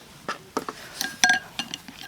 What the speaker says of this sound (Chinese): 打蛋，看我打蛋的技术如何